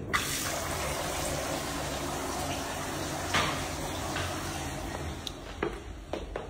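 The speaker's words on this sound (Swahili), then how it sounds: "ngoja niwashe maji ya moto kwanza nioge" Hot water runs for a shower as a steady hissing rush close by, with a few knocks and clatters over the flow and a voice heard briefly.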